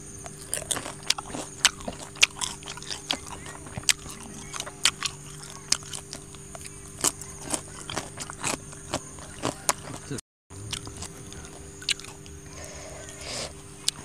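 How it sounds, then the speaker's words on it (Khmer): Meatballs with Thai chili dipping sauce being eaten, producing close, irregular crunchy bites and chewing sounds over a steady low background hum, with one brief dropout. "ឥឡូវចាប់ផ្ដើមមកញ៉ាំទាំងអស់គ្នាតែម្ដងចា៎"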